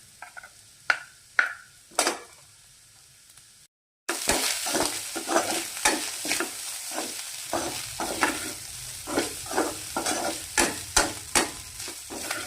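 Paneer and spices stir-fried in oil in a pan, a steady sizzle broken by repeated sharp scrapes and clinks of a spoon stirring, close and fairly loud after a brief silent gap.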